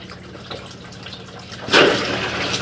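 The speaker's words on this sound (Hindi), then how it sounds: "देख सकते हैं इधर से पानी निकल रहा है" Water gushes out of an outlet in a village setting, a steady hiss that swells into a louder, fuller rush partway through and keeps running to the end.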